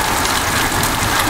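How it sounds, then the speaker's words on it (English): Heavy monsoon rain pours steadily in Mesa, Arizona, a loud, dense, unbroken roar of water with wind through trees, close and continuous with no voices. "See the rain blowing the trees."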